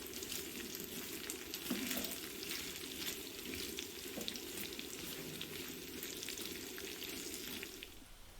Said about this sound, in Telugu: ఇది కొంచెం సిమ్లో పెట్టి వేయించుకోవాలండి, లేదంటే మాడిపోతుంది